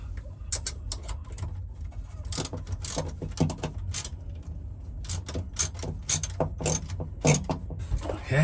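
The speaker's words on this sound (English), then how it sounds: "Man, I got a love-hate with this little ratchet." A small ratchet wrench turning a socket, clicking in rapid bursts of close, sharp pawl ticks with brief pauses, while heavier mechanical rattles sit underneath, set during the install of a Chinese diesel heater.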